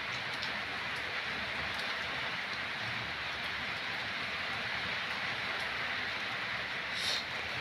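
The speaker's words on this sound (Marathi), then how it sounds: "असं पाऊस यायला लागलाय काय करावं" Steady rainfall makes a broad, unbroken hiss throughout, with a few faint ticks and taps scattered through it and no talking.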